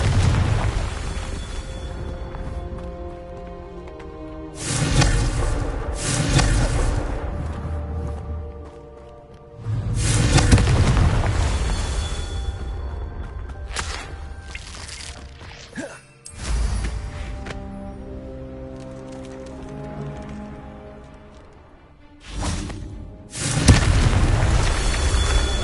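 Confringo spell blasts in the Hogwarts Legacy video game, several loud booming explosions with rumbling tails spaced across the stretch, interleaved with quieter game sounds and no talking.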